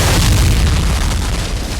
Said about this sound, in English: We're looking at a tremendous bang, we're looking at quite a powerful shockwave